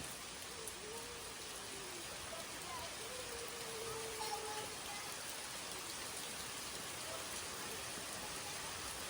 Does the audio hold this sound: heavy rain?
yes